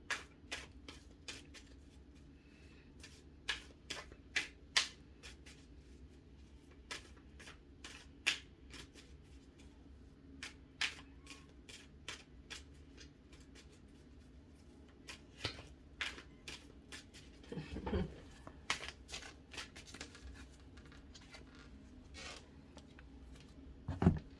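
Quiet, crisp riffling of cards being shuffled, repeated in short bursts over a low background hum.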